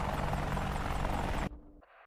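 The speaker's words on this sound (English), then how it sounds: "Are you back in the chopper, I see?" A helicopter in the DCS flight simulator game gives a dense, loud rotor and engine roar that cuts off abruptly partway through, leaving a brief faint tail.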